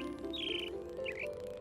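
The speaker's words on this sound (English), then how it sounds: "Oh, there, it's a blue jay." A bird, a blue jay in a cartoon for children, gives short squawking calls, two bright cries over a steady tonal music bed.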